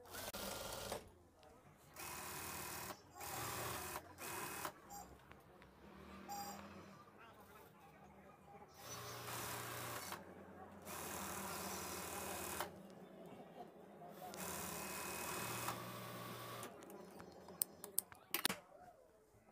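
Sewing machine running a side seam on a lehenga blouse, close and steady in several long whirring runs separated by short pauses and fabric handling.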